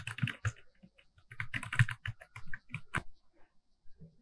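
Rapid, irregular keystrokes on a computer keyboard as a custom domain address is entered, crisp and close with short pauses between bursts.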